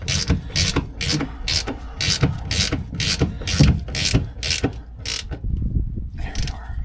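A hand ratchet snugs a bolt on a 2014–2019 GM Silverado during a 3-inch front leveling kit install, giving repeated quick clicking bursts in a steady rhythm, close and fairly loud, then briefly pausing near the end.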